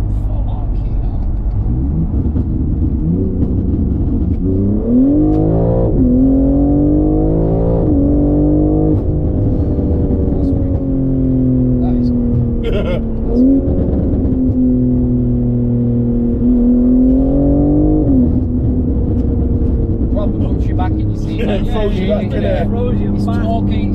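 A BMW M3 engine pulls up through its rev range while driving, with rising tones climbing and then settling as the car accelerates, close and steady under a continuous rumble, with people talking over it.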